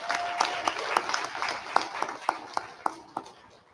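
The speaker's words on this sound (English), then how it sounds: "Please join me in a round of applause to show our appreciation for their time and dedication." Applause at an annual general meeting, a modest room of people clapping in appreciation, with sharp individual claps standing out over a softer patter for a few seconds.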